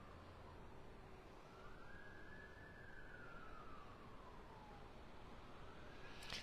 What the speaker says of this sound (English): Can hear some sirens in the distance.